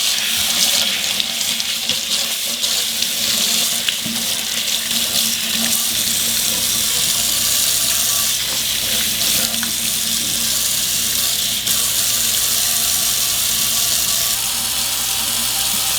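A tap runs hard and steadily into a jar for a houseplant, a loud, close, continuous rushing splash that never lets up, with no one talking.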